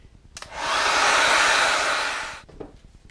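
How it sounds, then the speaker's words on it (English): A hair dryer switches on and blows a steady, loud, close whoosh for about two seconds, then cuts off. Faint handling noises come before and after. "I just take a hair dryer."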